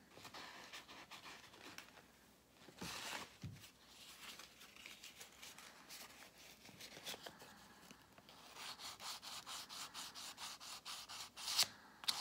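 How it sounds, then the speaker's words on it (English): A wooden farmhouse cake stand is hand-sanded with steady, faint rubbing and scratching strokes, quickening toward the end, with a brief spoken word near the start. "So now we are going to sand this."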